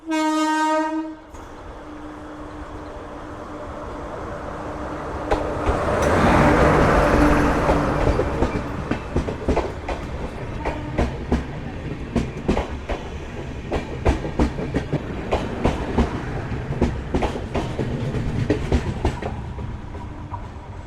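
A train arrives at a halt near Varanasi, opening with a loud sustained horn blast, then a swelling rumble and a steady clickety-clack of wheels over rail joints as the coaches roll past close by.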